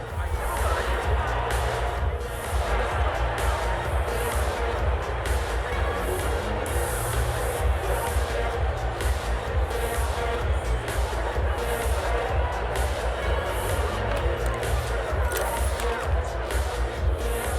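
A large crowd in the video game Hitman roars and murmurs continuously, a dense steady wall of cheering and babble with no pauses.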